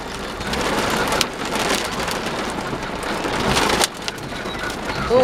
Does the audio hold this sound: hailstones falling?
yes